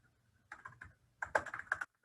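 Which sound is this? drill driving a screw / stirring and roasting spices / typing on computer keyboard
typing on computer keyboard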